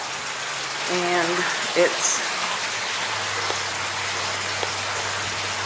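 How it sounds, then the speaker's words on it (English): Steady rain falling hard during a storm with wind, a constant broadband wash of drops on surfaces, with someone briefly speaking over it at the start. "the wind is picking up, and as you can see, the rain is coming down"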